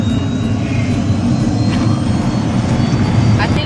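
A private jet's engines whine and roar steadily inside the cabin before takeoff, a constant loud drone filling the space; the engine sound continues without pause.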